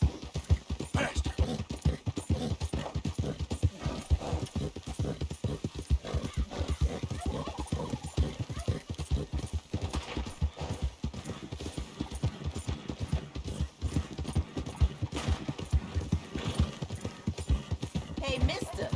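A horse gallops with rapid, steady hoofbeats in Red Dead Redemption 2, a continuous close clip-clop rhythm running throughout, with speech mixed in.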